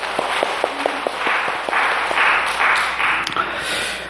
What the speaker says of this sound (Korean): 이 화복을 새로 맞춰서 영광의 박수를 주님께 돌리십시다.